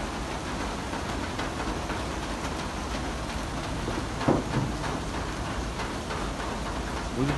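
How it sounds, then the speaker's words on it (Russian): Light rain falls steadily as a soft, even hiss throughout, with a couple of brief louder patters or knocks near the middle and at the end, and no talking. "а тут как раз дождик"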